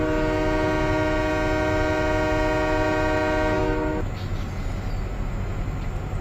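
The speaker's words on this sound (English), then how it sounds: "I gotta slow down this train." A train in the Farming Simulator 17 video game sounds a loud, sustained horn over a steady rumble of rolling cars for about four seconds, then the horn stops and the low rail rumble carries on alone.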